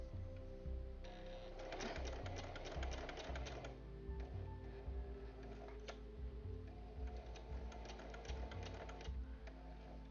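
A sewing machine fitted with a walking foot stitches binding onto a quilt, its rapid mechanical chatter running in bursts with brief pauses and speed changes, close and steady with no talk.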